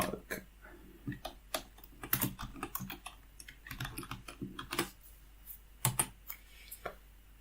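Code being typed on a computer keyboard: a quick, uneven run of close, crisp key clicks in short bursts, with no talking.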